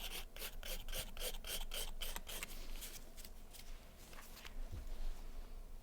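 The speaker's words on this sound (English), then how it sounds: "we're filing the tip" A nail file rasps against an acrylic nail tip in quick, rhythmic back-and-forth strokes, close and crisp, then slows into a few softer scrapes before stopping.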